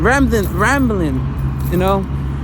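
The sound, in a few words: loud truck passing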